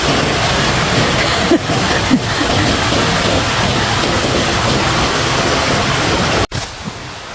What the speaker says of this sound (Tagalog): Ang sarap sa pandinig yung tunog ng tubig. Agos ng tubig.